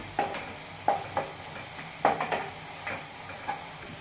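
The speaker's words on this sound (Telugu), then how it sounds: "కొంచెం లైట్ బ్రౌన్ కలర్ తెలిసే వరకు వేయించుకోండి." Onions fry gently in a pan while a spoon stirs them in short scraping strokes, with soft sizzling underneath and about six distinct stirs.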